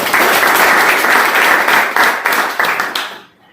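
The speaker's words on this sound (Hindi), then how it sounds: "मैं तीनों के लिए एक सामूहिक रूप से जोरदार तालियां चाहूंगा" Loud, dense applause from an audience at a speech event, steady for about three seconds and then fading out near the end.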